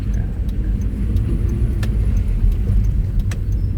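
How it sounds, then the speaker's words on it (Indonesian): A manual car pulls away in first gear while turning left at a green light in city traffic, its engine a steady close low rumble with light rattles and clicks on top. "injak kopling, masukkan gigi 1, pas kopling jak gas"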